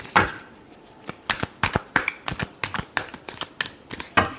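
Tarot cards being shuffled by hand during a reading, a close series of crisp riffling snaps and slaps in uneven bursts, sharp and loud against near silence, with no talking.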